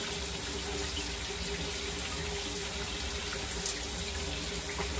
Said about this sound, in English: I shower